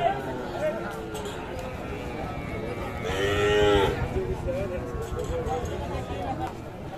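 Sahiwal cattle moo at a busy livestock market in Dinajpur, with a loud drawn-out bellow near the middle over constant crowd chatter and market hubbub.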